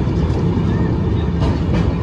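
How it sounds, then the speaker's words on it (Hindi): The Danapur Jansadharan Express rolls slowly past Ghaziabad, heard from inside as a steady, loud, low rumble of wheels on rails with faint rattling on top. "ट्रेन जो है हमारी धीरे धीरे गाजियाबाद को स्किप कर रही है"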